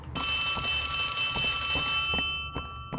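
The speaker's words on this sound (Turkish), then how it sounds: "telefon çalıyor yüksek sesle." Telephone ringing loudly in Poppy Playtime Chapter 3, a bright, sustained electronic ring that fills the space, then tails off with a few soft thuds near the end, no talk.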